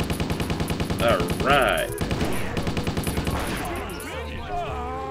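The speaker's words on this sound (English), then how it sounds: "We got the machine gunner down at least" Rapid machine gun fire in the video game Stubbs the Zombie, a steady rattling burst running under a player's excited voice and other game sounds.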